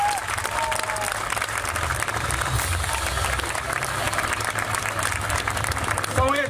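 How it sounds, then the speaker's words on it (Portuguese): A crowd at a political list presentation in Leça da Palmeira, Matosinhos, applauds Pedro Sousa and Guilherme Pinto, with steady sustained clapping over a low hum, some voices and cheers mixed in throughout. "para quem peço uma salva de palmas"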